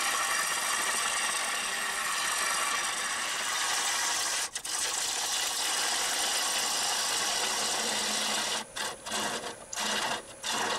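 Wood lathe spinning a live edge crotch bowl while a gouge rides the bevel, a continuous loud hissing cut with brief dropouts near the middle and end, no talk.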